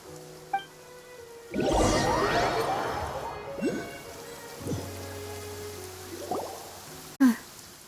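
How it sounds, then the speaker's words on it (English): Rain falls in the video game Genshin Impact as a steady wash, with a crashing burst near the start, scattered thuds and a sharp knock near the end over the downpour. "It's been raining non-stop for a few days now."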